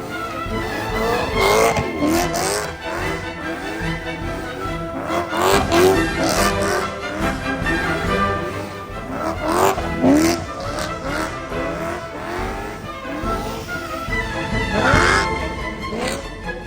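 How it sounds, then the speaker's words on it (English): A car does donuts on a cold, rainy lot, its engine revving up and down in repeated surges with tyres squealing through each loop, loud and close throughout. "I swear this video is just an excuse for me to do donuts."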